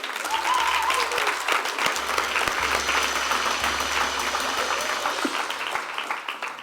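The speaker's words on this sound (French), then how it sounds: "aujourd'hui, on voudrait célébrer un baptême, parce qu'aujourd'hui, voilà, on peut l'applaudir." A church congregation applauds a baptism during a Sunday service, sustained clapping that swells quickly and carries on steadily, slightly distant and reverberant, with a faint low hum underneath.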